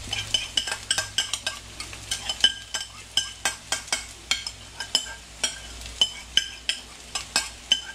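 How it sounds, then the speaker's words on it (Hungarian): Shrimp, fish and cooked rice are stir-fried in a pan, with rapid rhythmic scrapes and clinks of a utensil against metal over a low continuous sizzle, close and steady throughout. "ahogy egy picit már megpirult, ráteszik a rizst, a főtt rizst."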